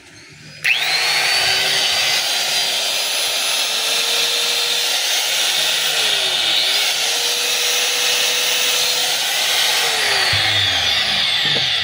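A power tool motor fitted with a new armature starts abruptly and runs at a steady high-pitched whine, with slight pitch dips as the speed wavers, loud and close with no talking.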